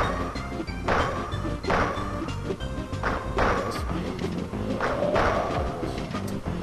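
Characters in Super Smash Bros on the N64 trade hits, landing repeated dull thuds and whacks over busy, continuous game music and effects.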